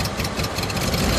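An old Ford Bronco engine chugs roughly at a cold start and keeps surging in pitch as if revving, a steady close rumble with no one talking.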